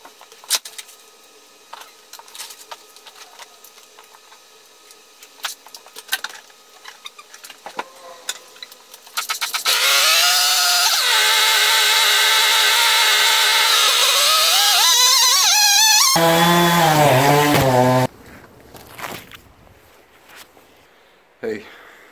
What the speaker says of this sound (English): So let's grab the chainsaw and cut it.